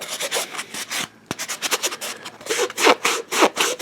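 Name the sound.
sanding with a flexible sanding sponge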